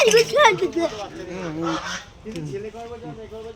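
Domestic ducks honking and calling close by in a short burst of nasal, goose-like cries, thinning to a few scattered calls.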